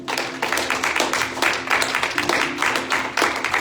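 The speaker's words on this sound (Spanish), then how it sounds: "Denle un aplauso al Señor" A church congregation applauds during a Spanish-language sermon, a dense, sustained patter of many hands clapping close by with rhythmic pulses running through it.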